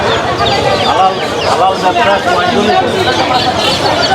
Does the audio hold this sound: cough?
no